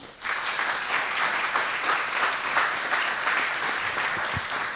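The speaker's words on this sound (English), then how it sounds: "So another round of applause, please." Steady applause from an audience, a dense, even clapping that holds at full strength for several seconds.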